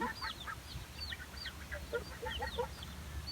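A group of muscovy ducks gives repeated short hissing, chirping calls at a steady, busy pace over low background rumble, close and moderately loud.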